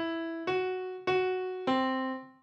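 A short piano melody of three struck notes, each ringing and slowly fading, close and clean with nothing else heard. It is the melody after a derivative operator has been applied to it.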